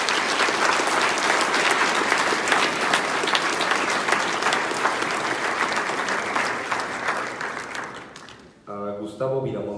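Dense, sustained audience applause at a paleobiology symposium talk, fading slightly before a voice begins speaking at the end.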